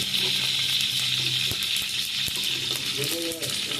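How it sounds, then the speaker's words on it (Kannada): Mustard seeds crackle in a tablespoon of hot oil in a pan, giving a steady, close sizzle with faint pops and a few sharp ticks throughout. "ಒಂದು ಟೇಬಲ್ ಸ್ಪೂನ್ ಆಯಿಲ್ ಹಾಕಿದ್ದೀನಿ ಸ್ವಲ್ಪ ಸಾಸಿವೆ ಸ್ವಲ್ಪ ಸಾಸಿವೆ"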